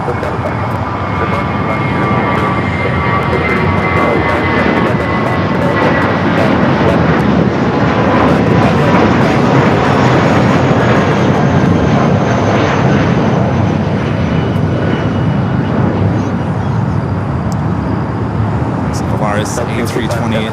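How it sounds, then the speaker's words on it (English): An Airbus A320neo takes off from runway 25 right at LAX, its engine roar loud and steady for the whole stretch. The sound stays broad and continuous, and voices come in and out over it. "Solaris A320 Neo taking off there at 25 right"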